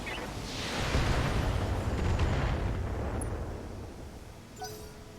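Mech weapons firing in the BattleTech video game, a loud rumbling blast that swells over a second and then rolls away into a long, fading roar.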